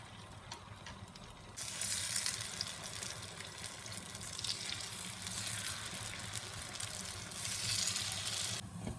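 Sweet kuzhipaniyaram batter frying in oil in a pan, a soft continuous sizzle that rises noticeably partway through and holds steady, fairly quiet and close with no talk.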